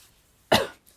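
A single sharp cough, close and fairly loud, breaks an otherwise quiet moment.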